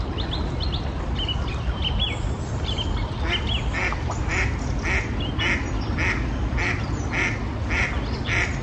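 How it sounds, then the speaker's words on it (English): A duck quacks repeatedly in a steady rhythmic series, fairly close, over a continuous outdoor rush of the River Wey and wind in winter, with some bird chirps early on. "There's even a noisy duck getting in on the act."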